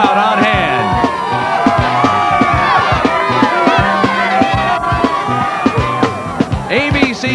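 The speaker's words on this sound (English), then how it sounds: "the Carrier Dome in Syracuse will be rocking. We've got another sellout crowd on hand." Sellout stadium crowd at a Boston College versus Syracuse college football game in the Carrier Dome, a loud, sustained roar of cheering, whoops and shouting that fills the indoor stadium.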